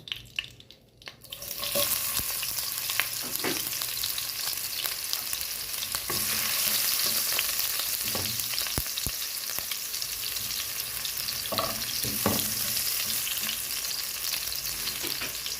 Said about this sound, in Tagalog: Onion, garlic, kamatis. Yan ang una natin igisa.